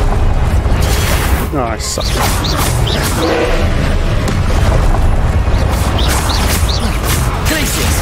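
Confringo fire-spell blasts in Hogwarts Legacy, cast during a duel. Heavy booming impacts recur throughout under a loud, busy battle mix, with a voice speaking briefly.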